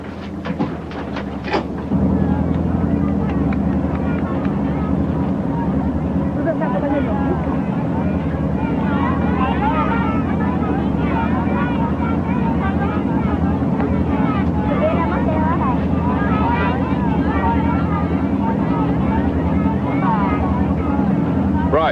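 Patrol boat engines drone steadily at sea, a loud continuous low rumble with wind noise, and voices talk over it throughout.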